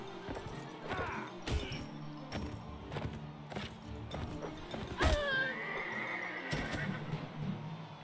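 In the medieval combat game Mount and Blade Warband, a horse gives a sharp whinny amid clip-clopping hooves, mechanical clanks and battle noise.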